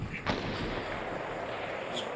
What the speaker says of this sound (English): I heard gunshot.